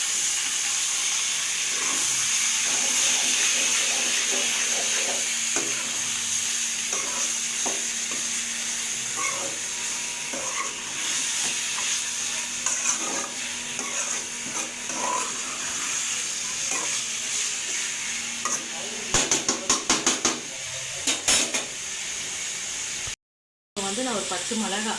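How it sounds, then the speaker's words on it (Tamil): Chicken being sautéed and stirred in a pan for a Tamil chicken uppu kari, with steady close sizzling and frying hiss, occasional scrapes and stirring clatter, and a voice talking over it at times. "இதே நல்லா வதக்கிக்கலாம்."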